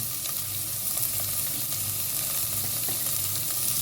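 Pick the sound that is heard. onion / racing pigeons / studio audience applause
onion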